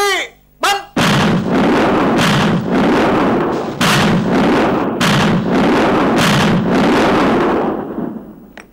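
Heavy artillery in a war film about the sixty days and nights of fighting in Hanoi: a rapid series of loud, booming shots with long rumbling tails, one after another over several seconds, after a brief shouted order.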